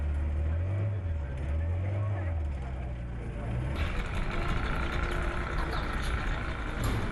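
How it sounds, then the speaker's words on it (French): The outboard engine of a pinasse passenger boat on the Ébrié lagoon labors low and uneven at first, then catches and runs steadily with a broad, loud roar after restarting, with voices faintly underneath. "Après plusieurs tentatives, le moteur est rallumé."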